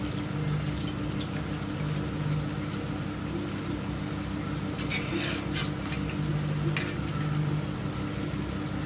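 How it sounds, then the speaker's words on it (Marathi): Slices of bitter gourd (karela) fry crisp in bubbling oil, giving a continuous, even sizzle. The hiss stays close and steady for the whole stretch with no talk. "जोपर्यंत आपले हे बुडबुड यायचे बंद होत नाही तोपर्यंत आपण कारलं फ्राय झालं असं समजायचं नाही"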